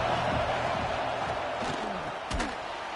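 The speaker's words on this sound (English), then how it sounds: "This crowd ready to make its presence known." A football stadium crowd roars in a steady, dense wash of noise during a college game, loud and continuous with a brief sharp burst near the end.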